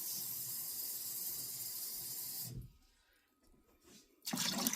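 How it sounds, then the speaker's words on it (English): Tap water pours steadily into a pot with a bright hiss, stops for a moment, then gushes again loudly, close by. "I'm going to add water up to the fill line"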